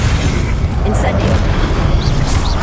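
A fire spell cast in the Hogwarts Legacy video game during a mini boss fight, heard as a steady roaring, booming blast with dense low rumble throughout, loud and sustained, with a voice talking over it.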